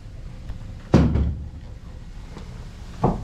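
Wooden door to a pipe organ chamber in a church, a 1997 Schoenstein organ, bumping shut with one solid knock, then a second, softer thud a couple of seconds later in a quiet room.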